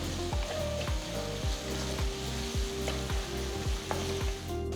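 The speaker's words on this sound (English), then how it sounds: "Saute the onions for about 2 minutes on medium-low flame." Finely chopped onion with hing sautés on a medium-low flame, giving a steady, even sizzle under a regular series of soft knocks, as if from a spoon against the pan.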